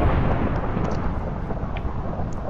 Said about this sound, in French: il y a de l'orage chez moi